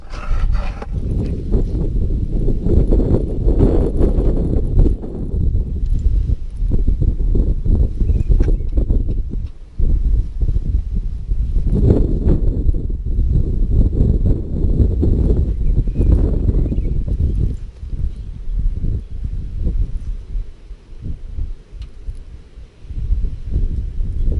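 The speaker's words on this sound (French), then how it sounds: "il y a beaucoup trop de vent" Strong wind buffets a microphone outdoors, loud low-pitched rumbling gusts that surge and ease throughout, with brief lulls between heavy blasts.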